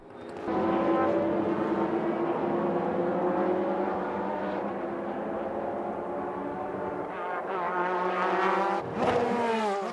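JGTC race cars, including the Takata Dome NSX, launch at a 2000 season race start, their engines droning loudly with rising pitch as several cars roar away together, alone without talk.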